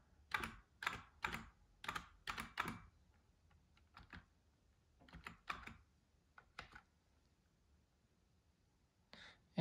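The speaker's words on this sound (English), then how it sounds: "So I'm going to go ahead and type in the password." Soft, close keystrokes tap out a password on a keyboard in quick clusters separated by pauses, quiet and without speech.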